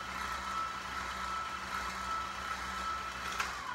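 Electric hand mixer running on low through carrot cupcake batter, blending dry ingredients into wet; a steady, continuous motor whir with a faint tonal hum, unbroken and alone for the whole stretch.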